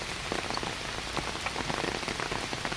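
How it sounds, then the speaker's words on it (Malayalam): Rain falling steadily on a rubber plantation, a dense even patter on surfaces with no voices. "മഴയല്ലേ മഴ വരുന്ന പോലെ നമുക്ക് തീർക്കണം"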